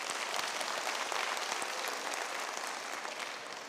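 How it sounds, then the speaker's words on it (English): A graduation audience applauds a chorale's tenors: a dense, continuous crowd clapping that stays steady and fairly bright, easing off slightly near the end. "A big round of applause to our tenors through our DUT"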